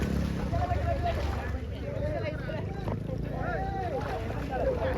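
A motorboat drones steadily across village waters at a middle distance, its low engine hum continuous while several people talk loudly nearby throughout.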